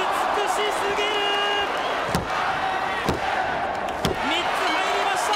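A 160 kg wrestler drops a 150 kg opponent with a backdrop in a pro wrestling match at Ariake Coliseum: several heavy, booming thuds on the ring mat under an excited commentator's voice and a loud, roaring crowd.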